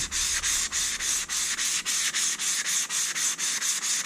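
A new Worksharp waterstone is flattened on a Harbor Freight diamond hone with steady back-and-forth rubbing strokes, about eleven gritty, even swipes in quick rhythm, close and loud with no talking.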